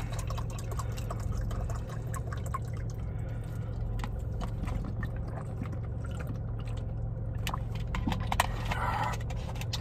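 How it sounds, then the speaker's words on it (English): Water being poured into a container to mix a creatine pre-workout drink, a steady splashing, gurgling stream up close running continuously with small drips and knocks. "Some more water in there."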